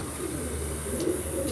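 Pigeons coo steadily in a loft or coop, a soft throaty burbling that repeats and overlaps at close range. Breathy air noise runs underneath, and no one speaks.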